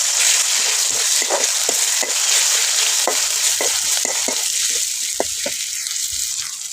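Garlic and whole garam masala fry in a pan with a loud, steady hiss and sizzle, broken by repeated light clicks and scrapes of stirring throughout.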